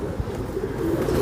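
A pigeon coos close by in a short, soft throaty call over a low background hum.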